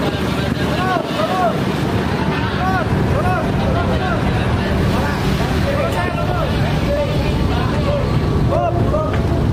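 A crowded ferry on the water heading home for a holiday trip, with a constant low engine drone and wind buffeting the microphone while several people talk loudly nearby.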